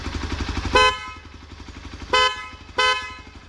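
Roots Windtone horn fitted to an Xpulse 200 4V motorcycle, sounding three short loud blasts with a bright, buzzy tone over the steady thump of the idling engine.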